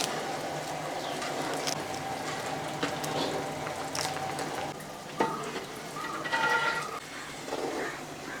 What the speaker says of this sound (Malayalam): ഇത് നമുക്ക് ഒന്ന് വറുത്തെടുക്കേണ്ടതാണ്.